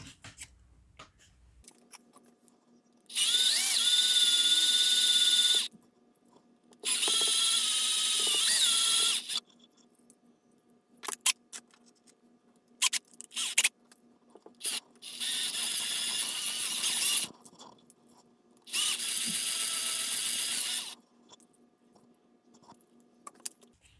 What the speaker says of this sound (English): Got to drill this out.